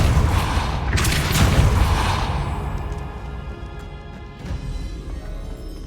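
The Confringo blasting spell in the video game Hogwarts Legacy sets off a loud, close, booming explosion with a crackling burst, then a rumble that fades over several seconds, with no voice.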